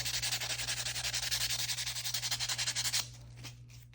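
A nail file rubs rapidly back and forth over an acrylic stiletto nail for about three seconds. The quick rhythmic rasping strokes are close and steady, then stop, leaving only a few light taps over a low hum.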